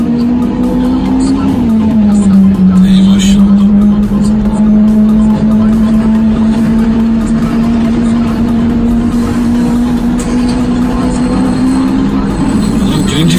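A Lamborghini engine roars loudly and steadily on a street in Ulm, Germany, a strong sustained drone with slight pitch shifts that holds for the whole stretch, heard from nearby with traffic noise around it.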